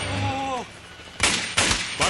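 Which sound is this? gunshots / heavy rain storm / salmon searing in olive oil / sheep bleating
gunshots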